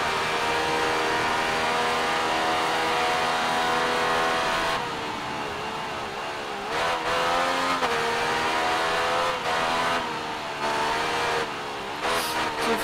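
Motorcycle engine from a Yamaha bike in the racing game Ride 3, revving steadily and loud throughout with shifting pitch as throttle rises and falls, close and continuous with no talk.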